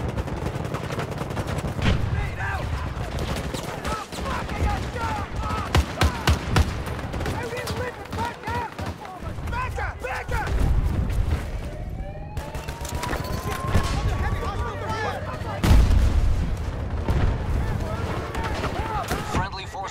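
Battlefield 2042 combat: a grenade blast amid rapid bursts of gunfire, dense crackling volleys running throughout with heavier booms partway through, while players talk over the fighting.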